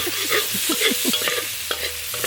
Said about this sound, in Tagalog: Yan na, nilagay na natin yung sibuyas.